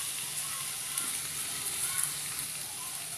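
Penne pasta with vegetables sizzling in a pan as it is stirred into sauce, a steady bright frying hiss with faint scraping, close and continuous for a few seconds.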